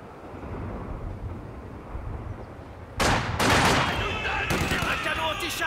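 Gunfire from a World War II battle in the video game Company of Heroes 2 (Russia campaign) breaks out after a stretch of low ambient rumble, with dense bursts of shots and explosions continuing to the end.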